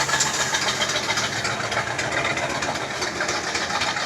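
A Chevy car engine keeps running after a wreck, a steady close hum that holds at even loudness throughout, with no voices heard.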